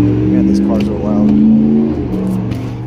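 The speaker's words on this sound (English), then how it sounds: "Man, these cars are loud." 2020 Ford Escape with a 1.5-litre engine running loud: a steady low droning hum with a faint rise and fall, close by, while someone talks over it.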